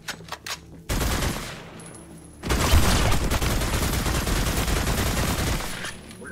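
Smart rifle gunfire in a video game: loud sustained rapid bursts of shots, close and dense, with a short lull between two long volleys and a few scattered shots at the start.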